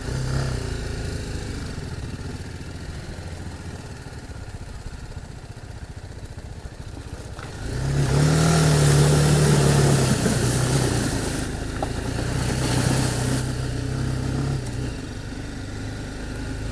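A 2018 BMW G310GS motorcycle engine drones steadily while riding, swelling louder midway as the throttle opens and then settling into a lower, continuous hum, close and without talk.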